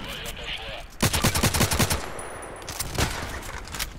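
Automatic gunfire in the Contract Wars online shooter, a rapid burst of about a dozen close, loud shots, then a pause and a few more scattered single shots.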